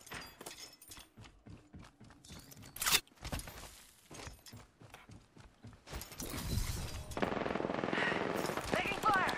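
Automatic gunfire in the Apex Legends battle royale game, rapid loud bursts of shots in the first half, then a denser mechanical roar of continuous firing and action near the end, with a voice calling out briefly.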